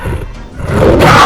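A T-Rex roar from the Dinosaur Simulator video game: one rough, big-cat-like roar that starts moderate and swells louder and brighter toward the end, with no voices.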